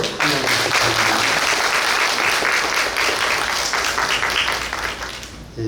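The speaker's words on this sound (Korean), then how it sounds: "한 번 더 박수로" Sustained applause from a church congregation during a Sunday worship service, dense and steady throughout, loud and close, thinning slightly near the end.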